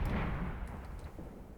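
Explosions from the war game Graviteam Tactics: Mius Front, a dense rumbling boom that fills the low end and slowly fades over a second and a half, with no voices over it.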